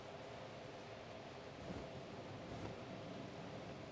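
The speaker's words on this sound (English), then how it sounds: "it's raining." Rain and thunder in a Pokémon video game, heard as a faint, constant rain wash with soft low rumbles of distant thunder.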